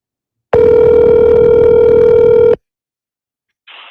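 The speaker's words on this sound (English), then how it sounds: "It's ringing." A telephone ringback tone sounds as one steady two-second electronic buzz, then silence, then the next ring begins.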